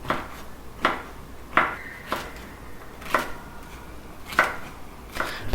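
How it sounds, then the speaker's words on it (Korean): A knife chops king oyster mushrooms into small pieces on a board, giving seven or eight crisp, sharp knocks at an uneven, unhurried pace. Each chop stands out clearly against a quiet kitchen background. "새송이 버섯은 작게 잘라서 준비해 주세요."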